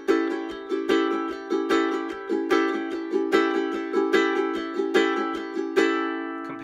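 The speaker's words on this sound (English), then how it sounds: "those eighth notes are divided evenly, and they sound like this." A ukulele is strummed in even, straight eighth notes with a rock-and-roll feel, steady crisp strokes ringing bright chords alone for several seconds.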